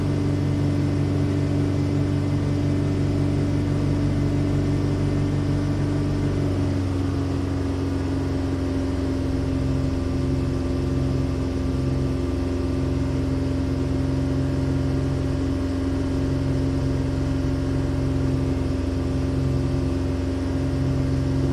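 A Nissan Xterra engine holds at raised RPMs, a steady close droning hum with layered tones that shift slightly in pitch partway through and continue evenly to the end.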